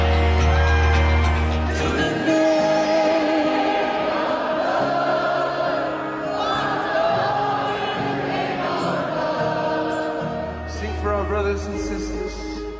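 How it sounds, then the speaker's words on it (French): Concert crowd at a show in a large venue, a dense roar of singing voices, whoops, shouts and yells blended with loud music, sustained and continuous throughout with a steady high level. "la foule, les gens certains chantent, d'autres crient, hurlent"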